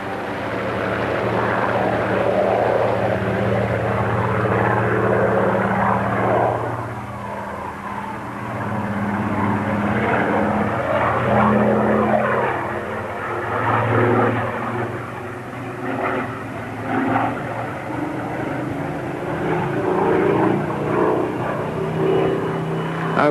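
A Supermarine Spitfire with a Rolls-Royce Merlin engine roars past, loud and sustained, its engine drone rising and falling in pitch as it flies by with no voices.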